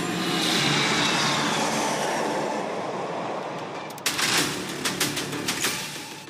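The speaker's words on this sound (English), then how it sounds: "4 Rafale लड़ाकू विमान और एक Boeing E-7 airborne early warning and control system करतब दिखाने के साथ ही अपनी ताकत का प्रदर्शन करेंगे" A Republic Day flypast of Rafale fighter jets and a Boeing E-7: a loud, broad jet roar that slowly fades, followed by sharp crackling bursts and clatter, with no talking.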